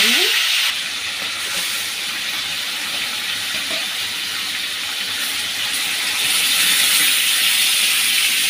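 Rooster meat frying in oil left over from fried onions and potatoes on a stove, a loud, dense, continuous sizzle that swells slightly toward the end, with no talk.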